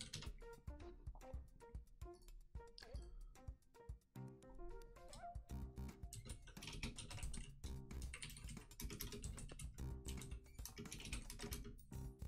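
Computer keyboard typing during a live coding session, rapid irregular clicking keystrokes going on throughout, fairly quiet, with a few short pauses.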